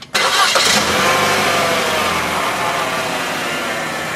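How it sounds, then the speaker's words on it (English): A 2014 Buick Encore engine cranks and catches, then settles into a loud, steady running rumble close by. "We're going to start it up now."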